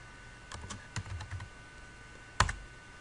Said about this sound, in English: to search again, press forward slash and let's type hello